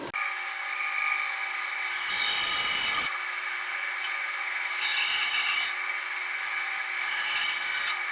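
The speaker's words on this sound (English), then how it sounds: "I'm going to try it on the bandsaw." Bandsaw cutting through a round wooden R2-D2 fishing lure body, a steady whining motor hum broken by three loud rasping bursts of blade biting the wood, close and with no voices.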